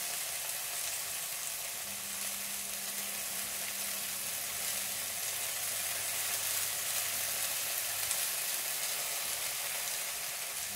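Noodles stir-fried with bean sprouts, ham and eggs, a loud, steady close-up sizzle of oil in a pan that holds continuously, with a faint low hum underneath and no speech.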